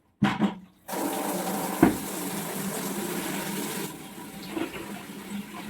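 Water gushes steadily from a tap at a home washing spot, starting abruptly after a brief clatter and running continuously with a slight drop near the end, with no voices.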